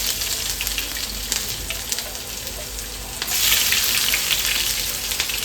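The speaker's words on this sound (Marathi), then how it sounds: "आता आपण ह्याच्यामध्ये जिरा टाकलेला आहे. आपण कांदा टाकून घेऊ." Onion tipped into hot oil with cumin seeds for a dry cluster-bean stir-fry sizzles steadily and loudly, the frying swelling brighter partway through as the pan heats, with no talking.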